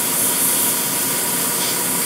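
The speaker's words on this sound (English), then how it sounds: "I can spray a really small spot size" An airbrush sprays paint onto a Tamiya 1/48 Spitfire Mk1 model, giving a loud, steady, close airy hiss that holds without a break.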